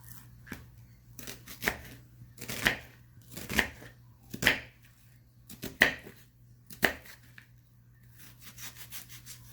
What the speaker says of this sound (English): we're just going to cut our onion into some cubes